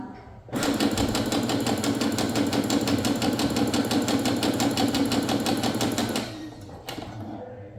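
An SE625 sewing machine stitches a rectangle in a rapid, even clatter lasting about six seconds, then slows and stops. A short mechanical click follows. The sound is close and clear with no talk over it.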